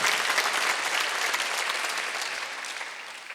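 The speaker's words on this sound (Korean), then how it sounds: "깨닫는 사람만 박수세요" A church congregation at a Sunday service breaks into steady, dense applause that holds strong throughout and eases off slightly toward the end.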